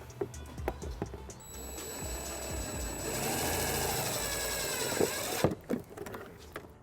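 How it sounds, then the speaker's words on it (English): A self-tapping screw is driven with a 1/4-inch socket to ground a trailer wiring harness on a 2020 Dodge Grand Caravan, a rising whirring grind of a few seconds between scattered clicks and knocks. "We're going to use the provided self-tapping screw and a 1/4-inch socket."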